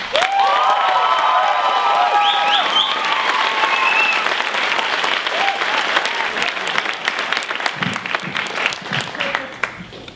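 Graduation audience applauding and cheering as the valedictorian takes the stage, loud sustained clapping with shouts and whoops early on, then thinning into scattered claps toward the end.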